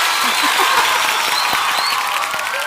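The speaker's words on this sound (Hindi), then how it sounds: "नीति खड़े होकर आपके लिए तालियां बजा रही हैं" Studio audience on a Hindi singing contest show applauding and cheering after a song performance, a dense wash of clapping with scattered shouts and a few sharp claps standing out.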